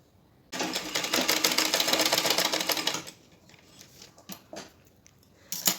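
A sewing machine stitches a folded edge on a daily-wear blouse in one rapid, steady whirring run of about two and a half seconds, close and clear, followed by quieter handling clicks and fabric rustles.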